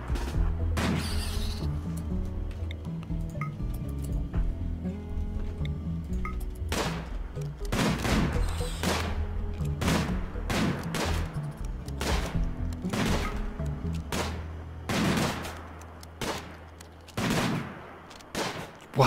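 Modded RimWorld colonists fire their guns: repeated sharp, loud gunshot bursts with short volleys and gaps, over a steady low background hum, growing sparser toward the end.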